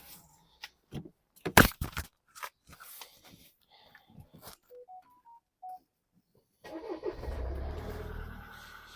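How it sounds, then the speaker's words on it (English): A Mercedes C-Class with an AdBlue fault: a few clicks and dashboard chimes, then the engine cranks and catches at about seven seconds, settling into a steady, close idle rumble. "I'm just going to start the car, leave it half an hour running to get the correct temperature"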